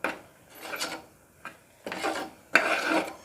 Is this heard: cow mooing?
no